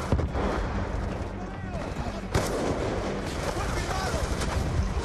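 A sniper rifle fires in Call of Duty: Black Ops 2 amid busy game audio, with a sharp loud crack partway through standing out over a constant wash of battlefield noise and scattered gunfire.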